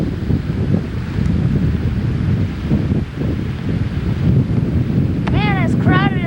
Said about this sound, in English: I sure do like the sound of the ocean.